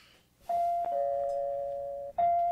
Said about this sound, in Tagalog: Pag-doorbell na